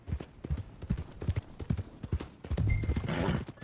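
Horse hooves clip-clop in a steady walking rhythm on a road near the stables, close and distinct, followed by a brief rustle and a higher snort-like burst at the end.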